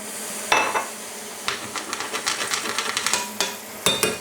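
A utensil scrapes browned fond off the bottom of a pot of bolognese in short, sharp metallic strokes, a few separate scrapes and then a quicker run of them, close and alone without talking.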